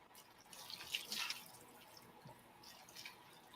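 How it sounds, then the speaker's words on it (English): Water trickles and drips into a bowl of cereal with almond milk, a quiet, brief pour with soft splashing that stays faint throughout. "I'm going to add a little bit of water."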